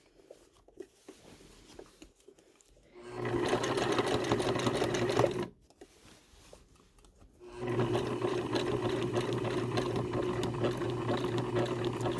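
Sewing machine running big zigzag stitches on a patch over ripped jeans, two steady whirring bursts of about two and five seconds each separated by quiet pauses, close and clear.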